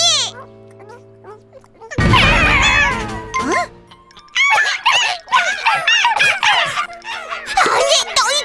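Several dogs yip, whine and bark excitedly at feeding time, a busy overlapping chorus close by with a jingling tag and a person talking among them.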